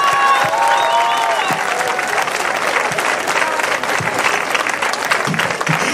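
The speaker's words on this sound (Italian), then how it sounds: "Alessandro Santa Caterina, applauditelo tutti!" Sustained crowd applause at an award ceremony of a small music festival, honoring a young singer; dense, steady clapping throughout with a few louder claps standing out, faint voices mixed in.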